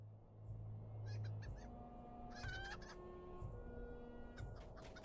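Chickens in The Lord of the Rings Online cluck and squawk in a game setting, a few short calls standing out over steady ambient background with no talk.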